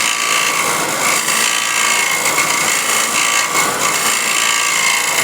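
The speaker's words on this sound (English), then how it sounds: "with the skew chisel, what I'll do is just get into the corner here and scrape the corner here to the middle" A skew chisel scrapes into a corner of a wooden workpiece, making a loud, steady, close-up rasping that continues unbroken with no voice.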